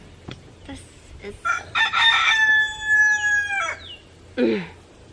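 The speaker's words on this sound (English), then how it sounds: "not too thrilled about our little rooster anymore." A small backyard rooster crows one long, loud, nearby cock-a-doodle-doo, preceded by a few clucks and sharp calls and followed by a brief squawk, with no talk.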